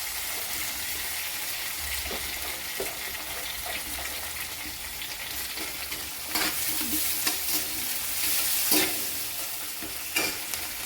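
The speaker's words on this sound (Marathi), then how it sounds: "आता आपण कोथिंबीर टाकून घ्यायची. कोथिंबीर पण छान परतून घ्यायची." Fresh coriander sizzles steadily in hot oil with green chillies in a tempering for pithla, a loud, continuous frying hiss broken by a few bursts of stirring and clatter partway through.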